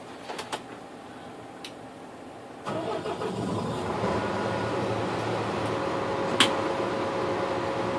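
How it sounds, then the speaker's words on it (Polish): A Scania truck engine in a truck driving simulator cranks and starts partway through, after a few short clicks, then settles into a steady mid-pitched idle with a brief sharp click near the end. "Ale najpierw uruchom silnik."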